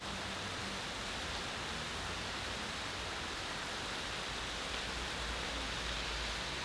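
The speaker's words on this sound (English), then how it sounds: "I went out and I recorded some authentic Brazilian rain and street sounds" Steady, dense hiss of rain in a Brazilian street falls continuously at a low, even level, with no distinct voices or events standing out.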